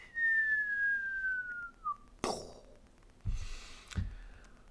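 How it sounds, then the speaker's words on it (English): One person whistles close into a microphone, a single clear tone sliding slowly downward for about two seconds, then a few breathy sighs and bumps. "Maybe hard to like whistle right into the mic, but it goes."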